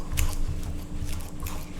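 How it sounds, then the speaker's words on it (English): Soft, irregular squishing and tapping close by, a fork pressing and mashing banana in a bowl, with a steady low hum underneath. "I will just mash the banana here."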